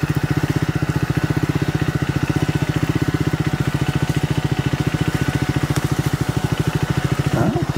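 A 2024 Triumph Scrambler 400X single-cylinder motorcycle rides through woods, its engine pulsing in a steady, close, rapid thump at constant speed throughout.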